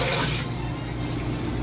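Cold water runs steadily into a mini washing machine aboard a boat, a continuous close rushing stream with no talk.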